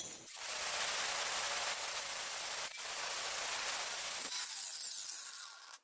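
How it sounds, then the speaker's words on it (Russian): Angle grinder with a homemade disc cutting a thin piece of metal, a steady, hissing abrasive rasp running continuously for several seconds with brief dips, then fading out. "Теперь попробуем распилить вот такой вот не толстый металл."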